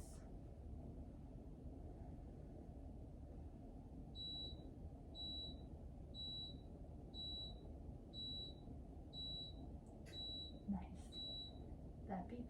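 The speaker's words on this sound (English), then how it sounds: "That beeping is my dishes are done" A dishwasher signals the end of its cycle with a run of eight short, evenly spaced high beeps, faint beneath a steady low room hum, followed by a few soft knocks.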